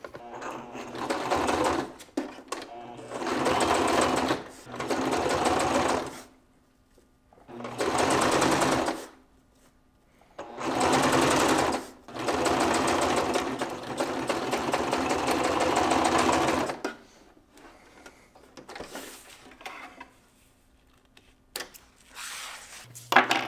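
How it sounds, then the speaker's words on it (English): A sewing machine stitches a bag zipper seam in several bursts of steady, close mechanical whirring, each lasting a few seconds, separated by pauses with faint handling sounds. "now we're stitched along the edge, 1/4 inch seam allowance"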